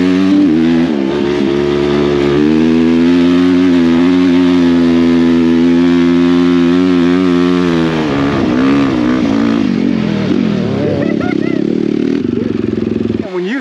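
A Suzuki Hayabusa street bike fitted with a paddle tire roars on sand dunes. Its engine is loud and close, holding a high, sustained rev with shifting pitch, then dropping and climbing again near the end.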